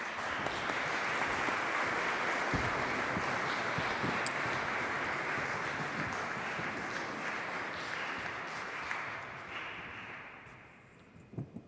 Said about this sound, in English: A round of applause for Claire